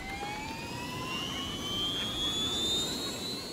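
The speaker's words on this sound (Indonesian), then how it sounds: "Helikopter terbang ke dalam kamar dan melakukan pencarian dari atas." A cartoon helicopter flies into a room and searches from above, giving a steady, fairly loud engine rush with a whining tone that slowly rises in pitch across the clip, heard alone with no talk.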